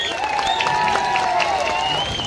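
An audience at a World Tribal Day gathering on 9 August claps in a dense, sustained burst of applause. A loud, sustained tone is heard over the clapping.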